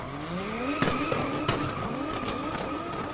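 Car number 11 drifts at the 2015 Red Bull Car Park Drift in Muscat, its tires squealing in long sweeping skids over a loud engine roar, with a few sharp bursts along the way.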